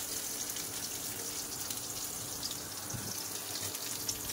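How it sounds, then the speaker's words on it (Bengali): Water streams into a bowl of ground spices and chili powder, a steady, even gushing pour that stays close and continuous throughout without any talk. "বাটিতে এবার একটু জল দেবো,"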